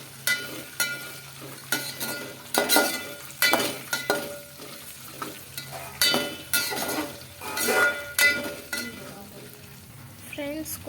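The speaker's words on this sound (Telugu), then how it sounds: "ఇప్పుడు మొత్తం మిక్స్ చేసుకోవాలి." Stirring fried peanuts and curry leaves in a pan while making upma, with a steady sizzle of frying under repeated scraping and clinking strokes of a spoon against the metal pan, close and fairly loud.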